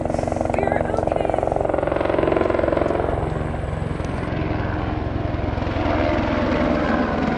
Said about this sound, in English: That's a sheriff helicopter.